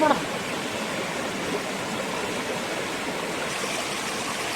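Waterfall at Visharam Falls in Vellore, Tamil Nadu, a dense, steady roar of falling water that fills the whole stretch evenly and close by, with no pauses.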